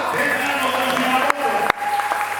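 A church congregation applauds throughout a worship gathering. The clapping is steady and fairly loud, with a sustained tone running beneath it and voices mixed in.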